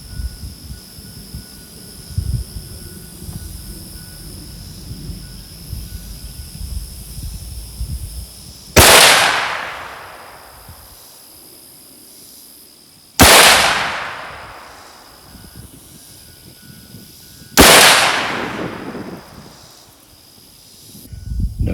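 Three loud, sharp rifle shots from a 6.5 Creedmoor loaded with Fox 123 Classic Hunter bullets crack out about four to five seconds apart, each trailing off in a long echoing decay, with quiet outdoor ambience between them and no talk.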